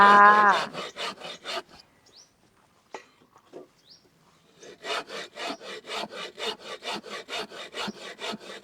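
A hand saw rasps through wood in quick back-and-forth strokes, pausing briefly midway before resuming a steady rhythmic sawing, close and fairly loud.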